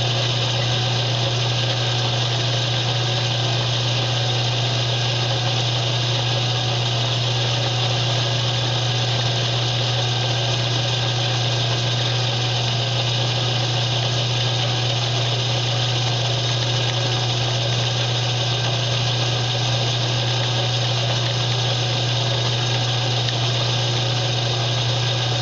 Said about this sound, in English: Now this isn't a big machine. It's got a milling head on it, and it could do quite a bit